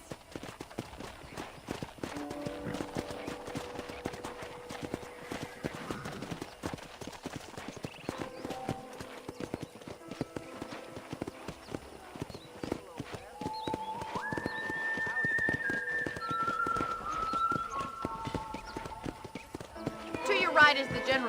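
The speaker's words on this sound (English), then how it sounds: "I picked out a fine horse for you." Horse hooves clip-clop at a steady walking rhythm in Red Dead Redemption on a ranch, soft and continuous, with music underneath and characters talking throughout.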